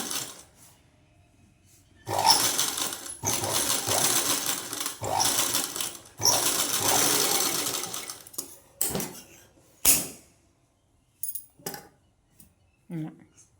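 A sewing machine stitches piping in several bursts of rapid, rhythmic mechanical chatter, close and fairly loud, separated by pauses and light clicks of handling.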